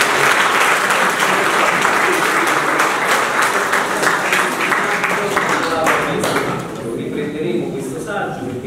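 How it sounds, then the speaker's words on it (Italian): Loud, dense audience applause at a tribute concert for a music teacher, sustained clapping that tapers off near the end. "maestro il caro amico Michele Andropo, che gli chiedo pure un applauso per questo."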